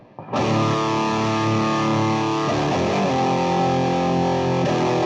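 A heavily distorted electric guitar rings out loud and dry through a PRS 2-Channel Custom amp with the lead channel cranked and reverb off, a sustained overdriven chord that keeps droning with no echo tail.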